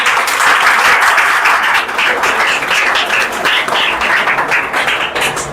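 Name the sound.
audience applause for a student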